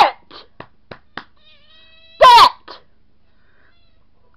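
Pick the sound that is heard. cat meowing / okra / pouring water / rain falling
cat meowing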